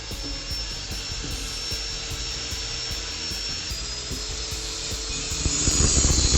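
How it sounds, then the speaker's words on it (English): Power tool cutting 1-inch angle iron and 1-inch square steel pipe for table and cabinet frames, a steady abrasive whine with rhythmic grinding pulses that grows louder near the end, no speech. "using 1-inch angle iron and 1-inch thick square pipe. I cut it into pieces"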